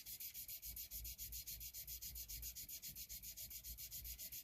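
Sandpaper on a sanding beam rubs rhythmically across jumbo guitar frets on a Jackson compound radius neck, fast steady back-and-forth strokes, close and quiet.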